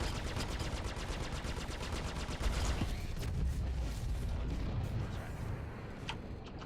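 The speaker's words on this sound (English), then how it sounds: "one of these players are shooting at me" Rapid automatic gunfire from other players in the space game Star Citizen: dense, continuous bursts of loud shots with a rumbling low end, easing slightly after a few seconds, with no talk over it.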